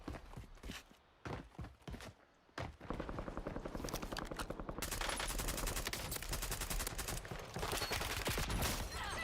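Gunfire in Call of Duty Warzone, starting with scattered single shots and short bursts, then turning into sustained, dense automatic fire that is loud and continuous to the end.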